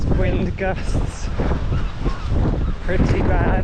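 Heavy wind gusts on a beach batter the microphone in a constant loud roar, with a voice faintly audible beneath the rumble.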